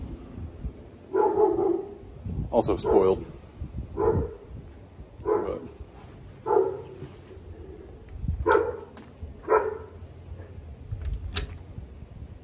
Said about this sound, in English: Mom and Dad have a dog too.